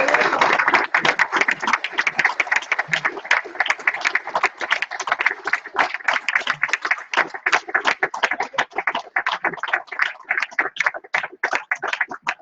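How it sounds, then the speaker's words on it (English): Sustained applause fills a racquetball club's 40th anniversary awards ceremony, with many hands clapping steadily and close for the full stretch. "Please give it a big, massive round of applause from the Aragon Racquetball Club, Mick Cunningham."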